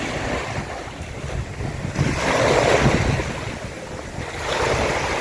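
Ocean surf rolls in at Angels Beach under strong gusting wind, a loud continuous wash of breaking waves with heavy wind buffeting on the microphone and no talk.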